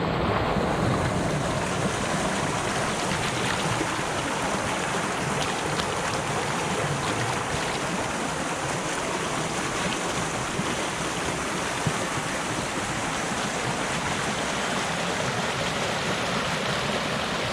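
Flooded stream running high past a winter pond, a continuous broadband rushing of water lasting the whole stretch, steady and fairly loud, with no talk.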